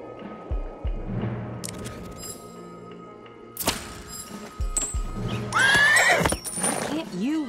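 Horses whinny loudly several times over clip-clopping hooves and heavy thuds in the video game Desperados III on PlayStation 4, with a person speaking in between.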